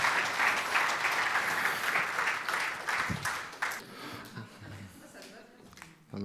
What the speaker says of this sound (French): Non, on n'applaudit pas